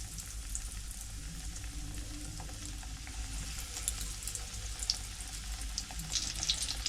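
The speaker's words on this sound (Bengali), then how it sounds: "তেলটা গরম হয়ে গেছে এবারে বেগুনগুলো দিয়ে দেবো ভাজার জন্য" Eggplant slices fry in hot oil in a pan over a medium flame, giving a steady, close sizzle and crackle that runs unbroken from start to end with no voices.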